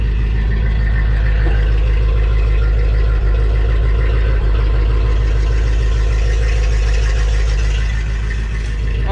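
A 1976 Chevy C50 Holmes wrecker's engine idles steadily through a reused muffler with an extended tailpipe, giving a loud, continuous low rumble with an even pulsing throb throughout.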